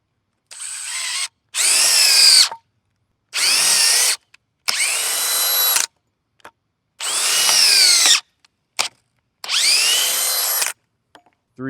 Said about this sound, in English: Highest speed setting in drill mode.